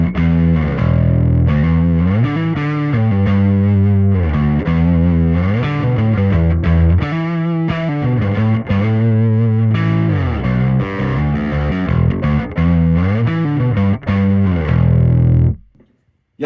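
An electric guitar plays a continuous run of notes and chords through a RAT distortion pedal on a pedalboard, thick and gritty with a slight modulated shimmer, loud and sustained, then cutting off abruptly at the end.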